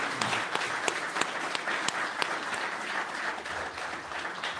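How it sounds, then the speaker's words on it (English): An audience applauds veteran graduates at an education program cohort celebration, giving steady, moderately distant clapping from a crowd that lasts throughout. "Would you please join me in one round of applause for all of our veteran graduates today?"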